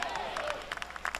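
Church congregation clapping during a Spanish-language worship service, a patter of claps from a crowd mixed with a voice speaking over it, fairly quiet.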